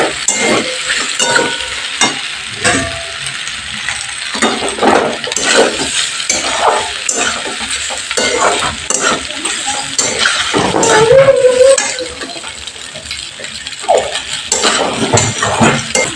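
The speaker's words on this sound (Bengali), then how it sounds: "পাস্তার সাথে হোয়াইট সসটা ভালো করে নেড়ে নিয়ে ভেজিটেবলগুলো আমি অ্যাড করে দিচ্ছি।" Pasta in white sauce with vegetables is stirred in a pan: a continuous sizzle with repeated scraping and utensil knocks against the pan, close and fairly loud.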